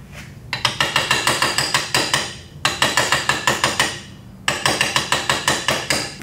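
A gentle metal tapping on the open crimps of a vintage headlight vacuum actuator, three bursts of quick, evenly spaced clicks close by, with short pauses between and no talk.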